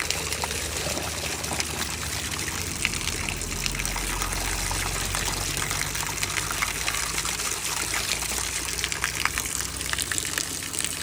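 Natural spring water pours steadily into a jug outdoors, a continuous loud splashing gush that stays even throughout with no voices.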